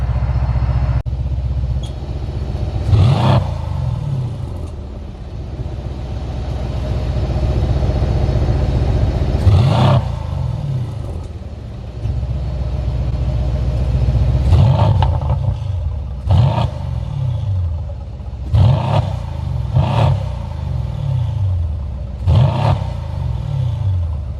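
A Mercedes C63S exhaust rumbles at a steady idle up close, broken by a series of loud, sharp rev blips, a few spaced apart and then several in quick succession.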